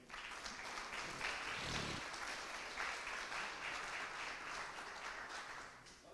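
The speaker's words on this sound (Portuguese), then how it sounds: "Aplauda o Senhor." A church congregation applauds during a sermon, with steady, dense clapping from many hands filling the room at moderate volume and running continuously before tapering slightly at the end.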